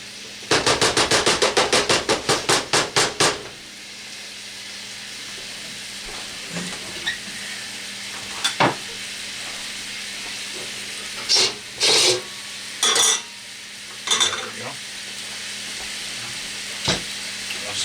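Ground beef mac and cheese cooks in a skillet, giving off a steady sizzle. A rapid burst of clicking scraping opens it, followed by scattered utensil clanks and stirring scrapes.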